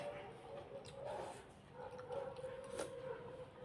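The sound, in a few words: dog howling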